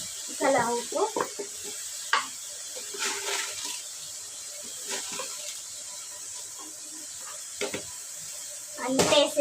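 Mutton being stirred in a pan with salt, turmeric and chili, giving scraping, shuffling stir sounds with a faint sizzle underneath, while a person talks intermittently nearby.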